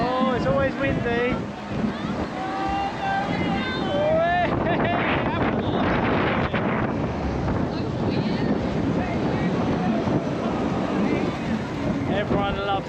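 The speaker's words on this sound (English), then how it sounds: "It is very windy up here." Strong wind at height on a fairground ride buffets the microphone in heavy gusts, with voices talking over the roar.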